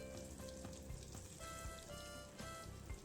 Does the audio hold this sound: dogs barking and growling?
no